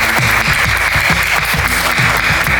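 Students in a high school hall clapping together, a dense, loud crowd applause that holds steady throughout with no voices on top.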